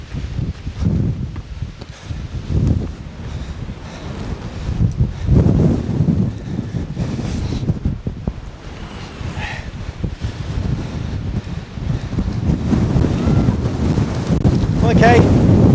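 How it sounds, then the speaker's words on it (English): Strong gusts buffet the microphone on a windy mountain path in the Lake District, a loud, uneven roar of wind rising and falling throughout. "God, it's windy."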